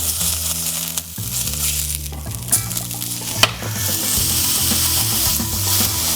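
An Impossible Burger plant-based patty sizzles loudly in a pan and is flipped, with steady frying hiss, scraping and a couple of sharp clatters under background music.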